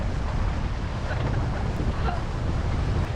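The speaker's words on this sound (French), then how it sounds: "il y a le vent qui s'est levé" Steady, loud wind roars across the microphone with a broad rushing hiss and low rumble, gusts blowing over open sea while sailing toward the Bahamas, continuous throughout.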